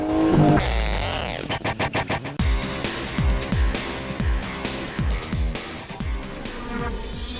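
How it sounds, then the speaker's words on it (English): A rally car's engine revs hard and then bounces off the limiter at a full-throttle launch, loud and close, before a pounding rhythmic backing takes over. "I put the car into gear. 5 seconds to go. Floor the throttle."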